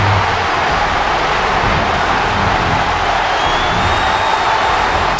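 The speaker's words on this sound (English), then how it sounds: "Take a look at the jam-packed crowd here at the Richmond Arena in Richmond, Virginia, giving Katana and Melina the accolades they so richly deserve." A jam-packed crowd at the Richmond Arena in Richmond, Virginia, roaring and cheering for a wrestling tag team, a loud, steady wash of noise that holds without a break.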